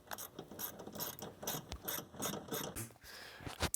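A hand ratchet tightens 10mm bolts on the AC accumulator bracket of a 2004 Dodge 2500, with rapid, rhythmic pawl clicking in repeated close bursts.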